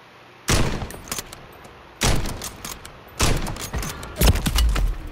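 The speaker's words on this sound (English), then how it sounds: "I sniped someone, then got sniped." Bursts of gunfire in a Call of Duty video game, four separate volleys of rapid, sharp shots with short gaps between them, loud and close.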